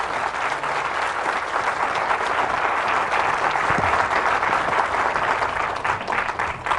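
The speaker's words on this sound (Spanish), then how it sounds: "Fuertes aplausos al Rey de Reyes y Señor de Señores." A church congregation breaks into loud, sustained applause during a Catholic service, dense even clapping filling the space for nearly seven seconds with no talking over it.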